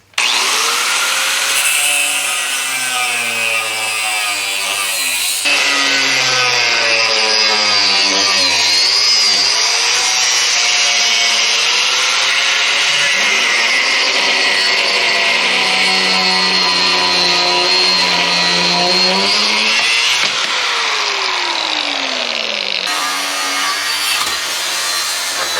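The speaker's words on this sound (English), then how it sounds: "so let's try with a cutoff wheel." A cutoff wheel grinding through a metal swage block stand, a loud, sustained whining cut with the pitch sliding up and down as the load changes, briefly pausing and restarting near the end.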